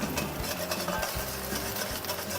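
Butter being stirred into a warm hollandaise-style sauce for smoked salmon eggs Benedict, soft scraping and light clinks of a utensil against the pan repeating steadily at close range, with no talking.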